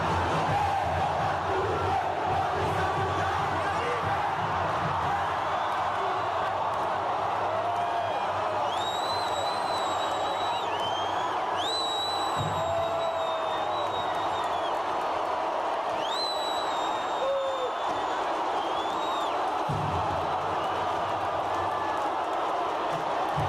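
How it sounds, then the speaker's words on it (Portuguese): At Castelão stadium, Fortaleza football fans roar, chant and whistle as a dense crowd, with shrill whistle blasts rising over the constant wash of supporters' noise. "Parabéns à torcida do Fortaleza por essa bela festa."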